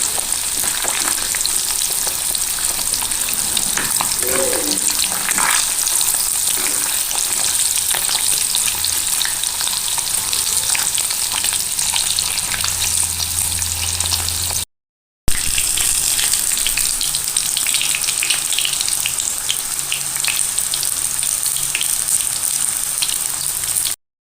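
Paneer cubes fry in hot oil in a home kitchen during preparation of a devotional offering, giving a steady loud sizzle and crackle that runs unbroken, with a brief cut midway and no talking.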